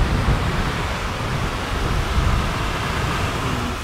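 A waterfall in the Pacific Northwest outdoors, heard as a steady, loud, broadband rushing roar that stays constant throughout with no voices.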